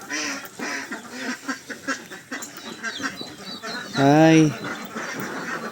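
Ducks quack close by at a duck poultry farm, with a loud burst of quacking near the end, while people talk and call out over the flock.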